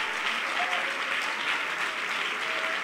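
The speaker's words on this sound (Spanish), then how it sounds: "Yo quiero que esta noche usted aplauda al Señor como nunca, como hace rato no lo hace" A church congregation claps together in steady, sustained applause, filling the room evenly from start to finish with no voices on top.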